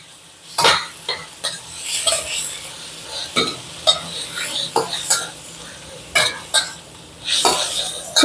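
Beef and broccoli stirred in a pan, with repeated sharp scraping and clattering strokes of a utensil against the metal over a soft sizzle, up close and irregular in rhythm.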